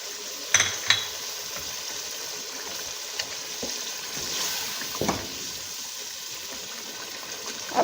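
Nigella seeds crackle and sizzle in hot oil with a chicken and mixed vegetable masala, a soft steady frying hiss broken by a few sharp pops near the start and middle.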